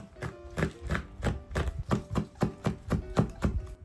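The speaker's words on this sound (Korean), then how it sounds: "홍고추는 반으로 자른 후 송송 썰어주세요" A knife slices red chili peppers on a cutting board in quick, even strokes, about twelve crisp taps in under four seconds, close and clear.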